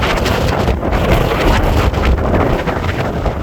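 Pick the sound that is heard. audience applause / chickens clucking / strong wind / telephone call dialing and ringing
strong wind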